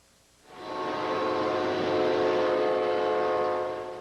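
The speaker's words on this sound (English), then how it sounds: "Trains started running today" An Amtrak passenger train rumbles along the rails, rising suddenly from quiet into a steady, loud, tonal roar that holds at an even level for several seconds, with no voices present.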